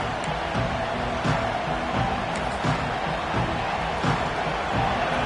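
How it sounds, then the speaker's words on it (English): Dense, steady roar of a large football stadium crowd at a college game, continuous throughout with faint rhythmic swells and no clear individual voices. "This crowd trying to show them what it's going to be like all day in this house."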